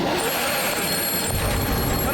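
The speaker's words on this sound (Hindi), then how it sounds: "ये फोनवा यहाँ कहाँ से आ गया?" A telephone bell rings loudly and continuously in a tense nighttime scene, with a voice heard faintly beneath it.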